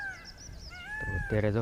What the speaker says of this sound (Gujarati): મસ્ત મજાનો મોરલા બોલે